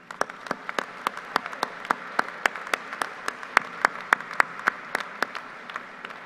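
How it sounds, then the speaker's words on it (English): Applause at a college commencement ceremony, heard as a sparse, fairly steady series of distinct sharp claps over a soft background crowd wash. "please join me in one final round of applause for this outstanding group of colleagues and students"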